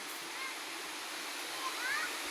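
Cold river water rushes steadily in a mountain setting, a continuous broad hiss heard close and fairly loud throughout, with no clear talk over it.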